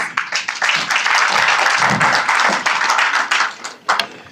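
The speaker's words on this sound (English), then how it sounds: "Please clap for yourselves" Audience applause at the close of a digital economy policy guide launch, a dense, steady wash of many hands clapping that holds loud for several seconds before tapering with a few scattered late claps.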